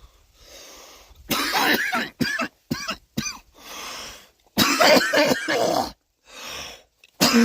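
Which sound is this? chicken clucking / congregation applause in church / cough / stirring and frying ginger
cough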